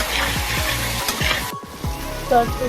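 Water hits spice masala frying in oil for a fish-and-shrimp kofta curry, raising a loud, close sizzle with stirring strokes, then a brief hush before the bubbling resumes.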